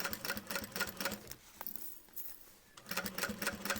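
Sewing machine stitching through a leather backpack over a metal snap, producing close, rapid clattering bursts that pause for about a second midway before resuming at the same brisk pace.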